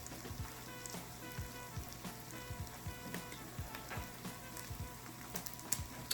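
Cheese melts and sizzles in a pan for a chorizo beef flatbread, a steady crackling fry with scattered pops throughout, no voices.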